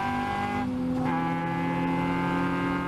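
A Caterham race car engine howls under throttle in a racing pack, a loud close whine whose pitch dips and climbs as it shifts, with other cars audible around it.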